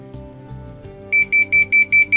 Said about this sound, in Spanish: Cuando nosotros lo conectamos tiene un pequeño pito